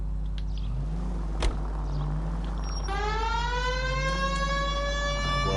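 Police car siren in the video game LA Noire starts up behind a steady engine drone, a rising and falling wail that holds loud and continuous once it kicks in.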